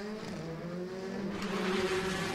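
An older-generation R5 rally car on a gravel or tarmac stage of the 3. Rajd Ziemi Głubczyckiej, its engine droning steadily and building slightly, heard from a moderate distance with no voices.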